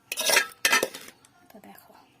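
Carrot fried rice with ghee being mixed in a pan, two loud bursts of metal utensil scraping and clattering against the pan, then quieter scattered stirring taps.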